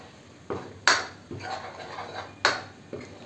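A utensil stirring and scraping spiced vegetables in a metal pan for pav bhaji, several uneven clanks and scrapes about a second apart, close and fairly loud.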